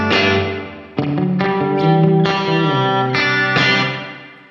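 Electric guitar through a Quad Cortex spring reverb preset, strummed chords ringing loud and close with a bright, effected wash, each new strum cutting in every second or so over a sustained tail.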